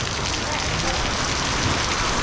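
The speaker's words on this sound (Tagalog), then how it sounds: "Biglang buhos ang ulan." Heavy rain suddenly pours down outdoors while corrugated roofing sheets are being laid, a dense, loud, unbroken hiss of drops hammering surfaces throughout.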